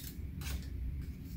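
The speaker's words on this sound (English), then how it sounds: "So I cut one black circle" Close, quiet snips of scissors cutting a small black paper circle for craft monster eyes, a few short crisp cuts in a quick run with no voice.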